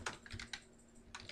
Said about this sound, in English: let's type it for practice purposes